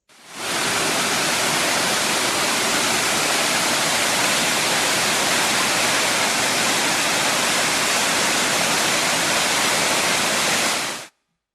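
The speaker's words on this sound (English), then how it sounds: "Number 6 was the rushing of high force waterfall." A steady, powerful roar of rushing water from High Force waterfall in Upper Teesdale, dense and unbroken from start to finish, fading in and out briefly at the edges.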